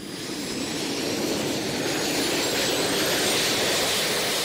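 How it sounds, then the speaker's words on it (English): Jet engines strapped to the arms of a Gravity Industries jet suit give a continuous, loud, steady roar with a broad hiss that holds without a break. "That's the roar of jet engines strapped to the arms of inventor Richard Browning of Gravity Industries"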